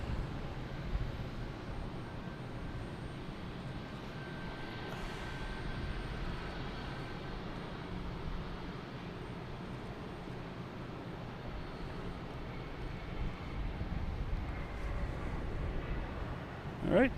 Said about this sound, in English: that's British Airways coming in from London Heathrow